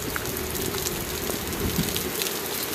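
Steady rain patters and splashes on a rooftop terrace nearby, a dense, continuous wash of drops.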